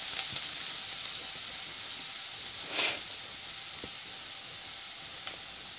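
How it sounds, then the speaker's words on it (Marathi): Chopped onion and capsicum fry in hot oil in a kadhai for cauliflower Manchurian, giving a soft, steady, hissing sizzle with a few faint pops and scrapes. "आता एका कढईमध्ये तेल गरम करून त्यामध्ये कांदा, शिमला मिर्च,"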